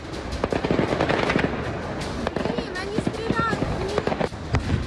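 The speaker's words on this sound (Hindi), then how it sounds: "रूसी सैनिक प्रदर्शनकारियों को खदेड़ने के लिए अंधाधुंध गोलियां बरसाने लगे" Bursts of rapid gunfire from Russian soldiers firing on protesters in Ukraine crackle in quick bursts and scattered single shots, with shouting voices and commotion mixed in.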